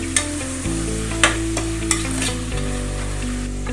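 Tomatoes, curry leaves and coriander sautéing in a pan for a Kerala-style chicken curry, a steady close sizzle with a few sharp clinks of a spoon stirring against the pan, no talking.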